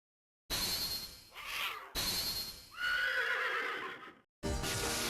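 A horse neighs loudly several times in an animated monster-racing episode, with long shrill whinnies broken by short gaps and no talk.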